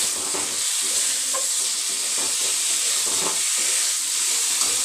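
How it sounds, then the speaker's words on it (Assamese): Small fish sizzle loudly in a pan of fried spice mix for an Assamese dish, a steady, close frying hiss with faint scrapes of stirring running throughout and no talk. "আমাৰ মছলা ভজা হৈ গ'ল, এতিয়া মাছ দিম। মাছটো দিম, অকণমান লৰাই দিম।"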